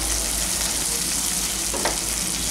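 Sliced small capsicum dropped into half-boiled vegetables frying in a pan for a soybean and vegetable tiffin dish, giving a steady loud sizzle throughout with a brief added crackle near the end.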